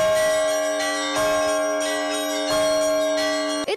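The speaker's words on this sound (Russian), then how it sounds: "Пасхальный звон. Радостный, праздничный." Easter church bells in the village of Fitinino, Peremyshl district, ring all at once, a loud, dense peal of overlapping strokes that ring on continuously.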